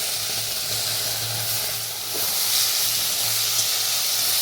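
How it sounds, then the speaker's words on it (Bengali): Drumstick flowers frying with potato and aubergine in a pan give a constant close sizzle and hiss, with stirring movements underneath. "এবার সজনে ফুলটা দিয়েও আমি নাড়াচাড়া করে নিচ্ছি।"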